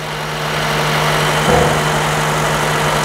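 A car engine idles steadily with its battery terminal disconnected, a close, even hum with a low tonal drone and no voices.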